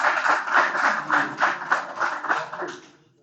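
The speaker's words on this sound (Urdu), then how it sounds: "پارٹیسپینٹ سے درخواست ہے کہ وہ اپنی تالیوں کو پرجوش رکھیں" Participants applauding at the closing session of a solar PV advance training course, a steady patter of many hands clapping together that fades out near the end.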